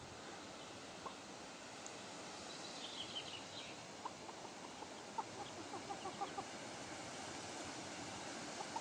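Roosters of the same colour, out among spruce bushes in a neighbour's yard, make scattered soft clucks and short calls at middle distance over a steady outdoor background hiss.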